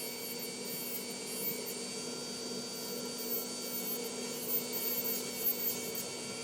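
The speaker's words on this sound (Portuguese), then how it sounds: "a gente começa passando essa lixa e vai olhando para ver aonde ainda precisa" A nail file rasps continuously across a gel nail tip, a soft, even, close scratching that holds steady throughout with no voices.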